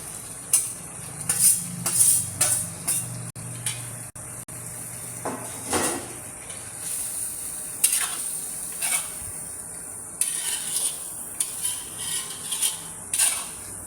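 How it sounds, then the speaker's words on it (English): Fried prawns go into a pan of masala made with tamarind juice and get stirred, giving intermittent metal scrapes and clinks over a low, steady sizzle, close and moderately loud with no talking. "Now the fried prawn will go in."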